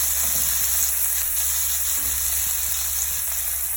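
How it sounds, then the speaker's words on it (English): Onions fry in olive oil in a pan, giving a continuous, fairly loud, even sizzle with no talking over it. "here we're going to add in some onions."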